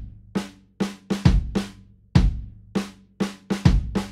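Drum loop programmed in Ableton Live, with added syncopated snare hits placed just before and after the third beat of each bar; crisp kick and snare hits in a steady repeating groove, close and clear with no talking.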